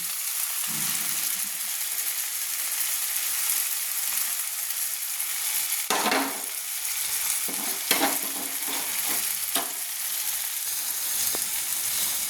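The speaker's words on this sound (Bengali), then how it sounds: "মশলাটা আমি নাড়ছি।" Mustard and green chili paste masala, added to fried tomatoes, sizzles in a pan while a spoon stirs it, producing a continuous hiss broken by several scraping strokes.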